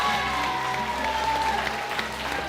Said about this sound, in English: Round of applause for Roman,